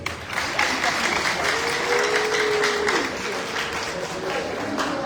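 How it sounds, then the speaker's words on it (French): An audience gives warm, sustained applause after a declaration is read, a dense, steady wash of clapping that holds evenly for several seconds, with a brief tonal whine sounding through it. "Je vous invite, mesdames et messieurs, à lui accorder un chaleureux applaudissement."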